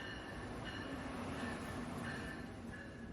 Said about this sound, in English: Amtrak Carolinian number 80 pulls in, led by ACS 64 number 619.